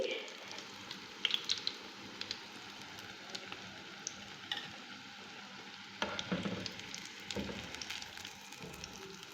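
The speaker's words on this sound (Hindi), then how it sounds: "अब मैं इन्हें ऑयल से निकाल लूँगी" Steady crackling sizzle of chicken and vegetable popsicles frying in hot oil, with scattered sharper pops and a brief louder burst partway through, no voices.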